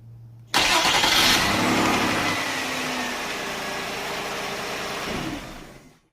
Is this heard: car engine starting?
yes